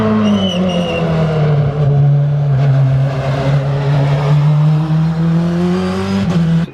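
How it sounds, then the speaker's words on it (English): Race cars pull out onto a damp circuit, a loud, close engine drone holding a steady pitch for several seconds with a slight rise near the end, with no talking. "so a few of the cars are coming out."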